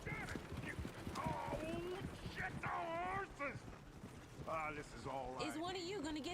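A horse gallops off in Red Dead Redemption 2 with quick, rhythmic hoofbeats mixed with character voices talking over the scene.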